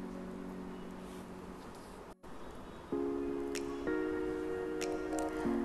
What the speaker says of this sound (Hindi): जब घी भी गर्म हो जाए तो आप उसमें सारा का सारा चिकन ट्रांसफ़र करके उसको स्लो आंच पे पकने दीजिए